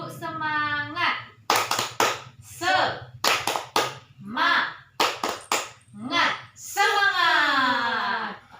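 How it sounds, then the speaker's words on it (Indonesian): A group of women clap out a rhythmic spirit cheer during a child-protection training session; sharp clusters of claps alternate with loud chanted voices, close and lively. "Oke, tepuk semangat."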